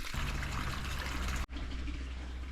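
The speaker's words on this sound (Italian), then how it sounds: "Abbiamo approfittato della fontana di acqua gelata per fare un po' di bucato" Ice-cold water from a fountain pours and splashes steadily during laundry washing, a loud continuous gush that briefly cuts out and resumes.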